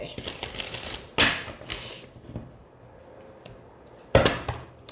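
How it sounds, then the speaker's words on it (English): Tarot cards being given a vigorous shuffle, with a few quick riffling bursts and soft slaps separated by quieter gaps, fairly close and a little faint, no one talking. "I'm going to give a good shuffle, actually, because I've used these cards"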